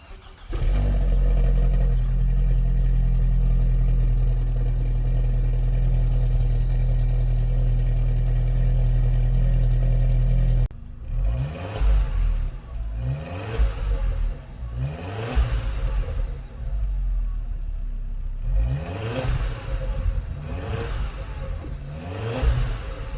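A 2004 Audi A4 1.8T Quattro with the muffler deleted cranks and catches on a cold start, then runs at a loud, steady high idle; after a pause, several sharp revs rise and fall in bursts.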